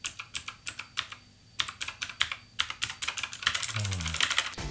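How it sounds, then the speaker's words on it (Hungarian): Typing on a White Shark Commandos mechanical keyboard, a close, crisp run of individual key clacks that pauses briefly, then speeds into a dense, fast burst. "egy mechanikus billentyűzetnek minden lenyomása egyfajta orgazmussal ér fel"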